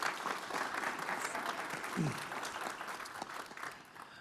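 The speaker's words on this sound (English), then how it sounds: "I'm going to ask the group here a round of applause for Maria on all that effort" An energy industry conference audience applauds, a steady, moderately loud wash of many hands clapping with a brief voice-like sound in the middle.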